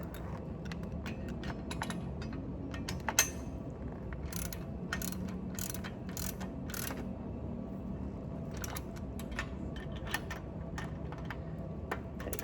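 Bolts are tightened during assembly of a REP adjustable weight bench, giving a run of quick, crisp metallic clicks in bursts over a low background hum, close and moderately quiet.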